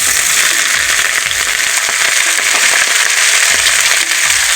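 Green chillies sizzle and crackle in hot oil in a pan for a simple cabbage dish, a steady dense spitting hiss that runs continuously without pause.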